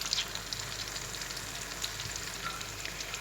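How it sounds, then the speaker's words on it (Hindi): Fish pieces for katakat fry on a slow flame, giving a steady, soft hiss and crackle with faint pops throughout, close and continuous with no talking. "इनको हम स्लो फ्लेम पे फ्राई कर रहे हैं।"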